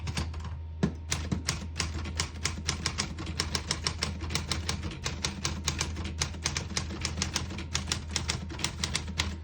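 Steady, rapid keystrokes on a 1946 Smith-Corona Clipper portable typewriter, crisp mechanical clacks in a fairly even rhythm for several seconds, close and alone without voices.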